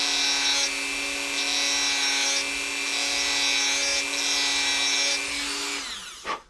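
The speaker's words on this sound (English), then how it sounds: "So this little nub is just a hair too big. So we're just going to do a couple passes with the Dremel." A Dremel rotary tool grinds down the safety nub on a Tanfoglio pistol in a steady, close, high-pitched whine over several seconds, then spins down at the end; no one speaks.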